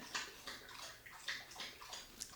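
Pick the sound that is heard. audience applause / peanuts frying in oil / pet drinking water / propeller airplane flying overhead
pet drinking water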